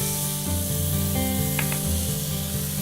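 Food seasoned with salt and pepper hisses in a hot pan on a stove, a steady close sizzle with light scraping and a couple of sharper ticks, with a low hum underneath.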